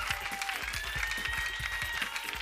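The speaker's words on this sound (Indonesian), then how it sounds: "Tepuk tangan yang meriah sekali lagi buat Hello." Studio audience applause on an Indonesian TV variety show, dense even clapping held at a steady level under a thin tone and some background voices, moderately distant.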